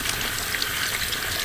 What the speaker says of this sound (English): I'm gonna go and just rinse him off